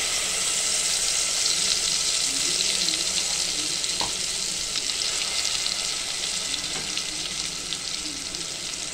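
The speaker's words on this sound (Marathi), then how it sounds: "आता आपण पातेल्यामध्ये तेल टाकलेले, तेल गरम झाले। आपण आता मसाला टाकतो" Onion, garlic and masala frying in hot oil in a pot for a rustic mutton curry, with a steady, fairly loud hiss and sizzle running throughout and a few faint clinks of stirring.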